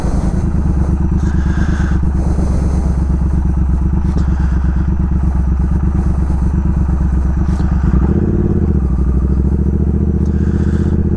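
A Triumph Speed Twin motorcycle rides along a gravel road, its engine droning steadily and loud with a close, continuous rumble and a slight swell near the end.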